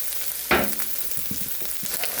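Garlic, pork and imitation crab meat sautéing in a pan: a sharp hiss as ingredients hit the hot oil, then a softer steady sizzle broken by light stirring scrapes, close by with no talking.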